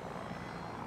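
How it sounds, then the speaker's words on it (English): A transport helicopter in the Battlefield 2042 video game hums with a steady, faint rotor and engine drone, heard alone. "I didn't mean to go as a transport helicopter, but okay."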